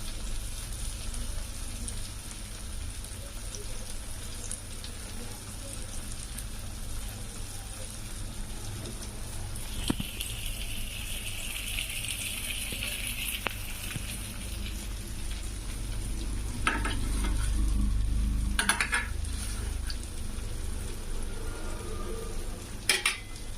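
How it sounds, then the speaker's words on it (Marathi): Pieces of pomfret fish fry in a pan with a steady, rain-like sizzle, close and moderate, with occasional utensil clinks and a brief hiss swell. "हे पण आपण पहिले पीस केले त्याप्रमाणे फ्राय करून घ्यायचे"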